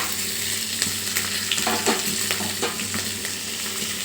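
Onions, green chilies and curry leaves are dropped into hot oil with peanuts during tempering for onion rice, and they sizzle loudly and steadily, with sharp crackles and spatters popping up as the pan is stirred.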